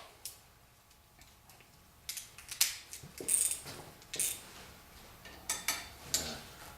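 Bolts being checked for tightness with a hand tool on a V8-swapped Mazda Miata build: sparse, sharp metallic clicks and ticks close up in a quiet garage, growing more frequent partway through.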